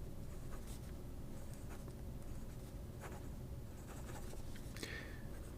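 A Chinese Wancai N8 fountain pen in red maple writing on paper, a faint, soft scratching of the nib under a steady hiss of background noise.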